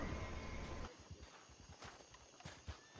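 Horse hooves clip-clop in a steady walking rhythm in a video game, fairly faint, over a background of low game ambience after a brief louder rumble.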